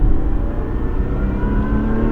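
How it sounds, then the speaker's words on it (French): A Lotus Exige 410 sports car engine roars loudly and steadily as its exhaust valves open, its deep, throaty exhaust droning without a break. "on a dû entendre l'ouverture des valves"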